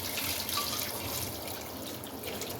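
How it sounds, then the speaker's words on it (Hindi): Hot water poured into a pot of mutton makhni karahi with fried masala and tomatoes, a steady, moderately quiet watery rush lasting the whole stretch with no talk. "अब इसमें 2 गिलास गर्म पानी वो शामिल कर दें।"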